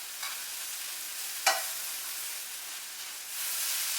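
Corn sweating in a skillet for Mexican-style skillet corn gives a steady soft sizzle and hiss, with a brief stirring clatter partway through and the frying swelling slightly louder toward the end.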